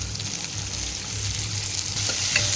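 Small chopped onions frying in a little oil with curry leaves, a steady close sizzle with light crackle and a brief stirring scrape near the end, no talk.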